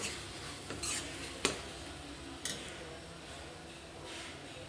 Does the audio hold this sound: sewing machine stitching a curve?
no